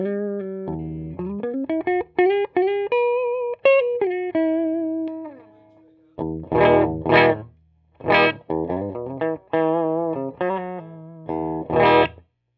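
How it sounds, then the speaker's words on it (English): Electric guitar played on both pickups through a Fender Princeton Chris Stapleton Edition amp, giving warm, full sustained notes and short strummed chord bursts with gentle reverb, loud and close with no talking. "Good full round sound, pretty warm sounding for a vintage style Fender amp."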